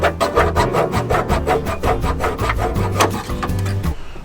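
A hacksaw cuts through a corroded brake pipe on a car in quick, even back-and-forth rasping strokes, loud and close, until the cutting stops at the end.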